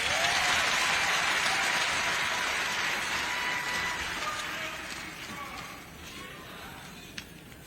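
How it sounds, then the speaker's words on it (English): A conference audience at a union silver jubilee celebration claps in sustained, broad applause that slowly fades over several seconds, with murmuring voices mixed in. "Another round of applause."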